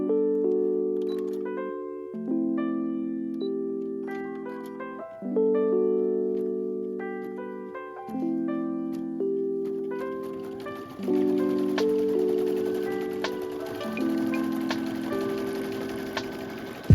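A computerized embroidery machine stitches names onto key fobs, its motors giving off steady pitched whines that shift in repeating cycles, with a fast rhythmic ticking of the needle running throughout.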